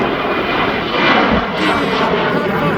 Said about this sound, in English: I think this cargo jet might be going down the bottom